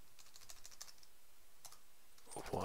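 Fast, steady typing on a computer keyboard during iPhone web-services coding, with irregular close key clicks running throughout and a louder cluster of strokes near the end, no talking.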